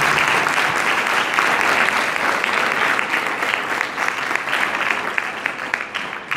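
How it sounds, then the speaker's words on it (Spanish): Warm, sustained applause from a seated audience at a talk, full and even throughout with a slight easing toward the end, no voices standing out. "Un aplauso para ella, claro que sí."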